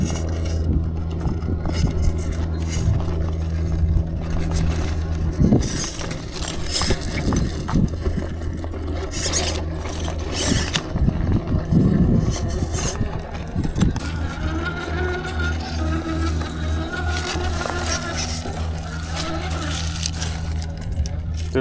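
An RC rock crawler fitted with a Hobbywing Fusion ESC drives over terrain, its electric motor whining and rising with throttle while tires scrape and crunch over rock, continuous and close.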